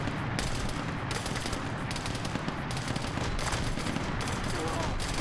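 Rapid bolter gunfire in a video game mission comes as dense, sustained bursts of loud automatic shots that pulse in several waves, close and harsh, without talk over them.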